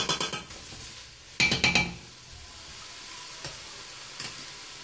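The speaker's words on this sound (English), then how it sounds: "Okay, we're still cooking the meat." Meat for chili cooking on medium heat in a pot, with a continuous sizzle broken by two bursts of rapid metallic scraping and clinking from a utensil against the pot, then quieter frying with a few light taps.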